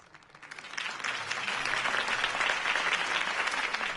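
A crowd in the Telltale Batman video game claps after a campaign speech: steady, dense applause swelling in within the first second and holding at moderate level with no speech over it.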